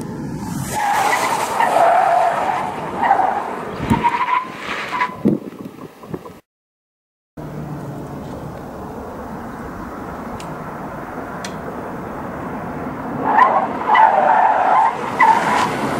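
Tires of a Changan CS75 squeal and skid loudly during a 60 km/h moose lane-change emergency avoidance test, with engine and road noise throughout, a brief dropout midway, then renewed squealing near the end.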